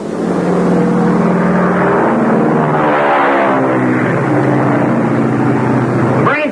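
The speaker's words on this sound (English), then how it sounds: "Sounds like one of our airplanes." An airplane engine drones loudly and steadily overhead, its pitch shifting as the aircraft passes, in an old action-adventure film. No voices are heard over it.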